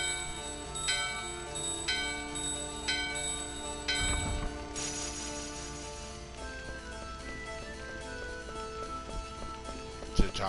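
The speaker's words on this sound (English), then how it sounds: "Got a bell. Pretty sure if I ring this one," A bell rung in Final Fantasy 9 chimes several times in a slow series of clear ringing strikes over a quiet game music bed, each tone decaying gently.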